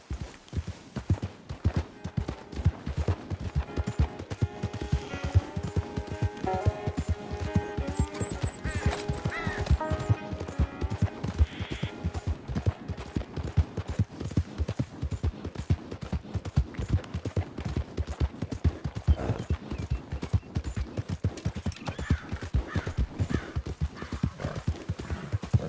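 A horse gallops in Red Dead Redemption 2, its steady rapid hoof clip-clop close and loud throughout, with occasional whinnies and a brief voice urging it on.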